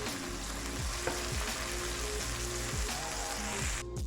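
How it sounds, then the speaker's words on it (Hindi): Butter melts in a hot pan for a white sauce, giving off a continuous close sizzle and crackle with occasional soft stirring scrapes, steady and fairly loud throughout with no talking. "हल्का से ये बटर मेल्ट होता है"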